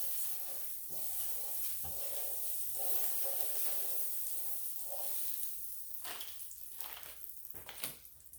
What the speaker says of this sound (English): So we got the griddle on, it's hot already. I have it on 300. I'm just gonna take some butter and put it on there.